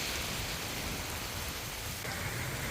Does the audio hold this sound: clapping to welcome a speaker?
no